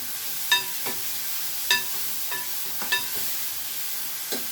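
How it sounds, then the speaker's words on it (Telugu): Masala paste frying and being stirred in a pan for a drumstick tamarind stew: a continuous sizzle broken by four or five sharp metallic scrapes of a ladle at regular intervals, close up and with no voices. "పేస్ట్ వేసి కలుపుకోండి ఈ మసాలా ముద్ద వేగిన తర్వాత"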